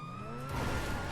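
In a video game, a police car's siren wails in a clear rising tone, then a roar of engine and road noise quickly swamps it. The burst is short and fairly loud, with no speech.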